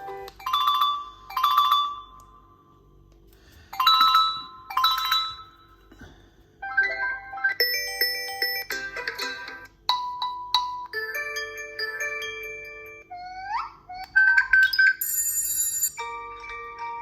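A Google Pixel 6 plays a series of ringtones in turn: bright chiming melodic phrases, then tonal synth and bell-like riffs with rising glides, loud and close, with no talking.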